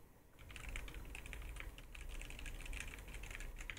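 Fast typing on a Wooting 60HE Alumaze aluminium gaming keyboard fitted with foam, a dense, even patter of crisp keystrokes heard close up and fairly quiet, with no talking.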